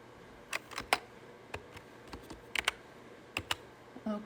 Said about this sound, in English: I'm just going to type that in there.